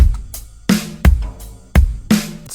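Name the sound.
standard rock drum loop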